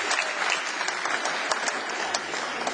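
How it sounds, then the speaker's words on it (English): Audience applause at a live show, a dense steady wash of many hands clapping with a few sharper claps standing out, moderately loud and continuous throughout with no talk over it. "give Greg a big round of applause."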